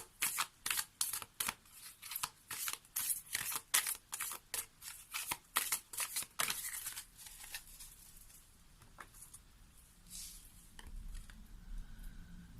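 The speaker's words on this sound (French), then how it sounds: "on va prendre une carte de l'oracle de l'harmonie pour essayer de compléter votre réponse" Oracle cards are shuffled for a card reading, making a quick rhythmic run of crisp riffling slaps up close, then settling into softer handling with faint background noise.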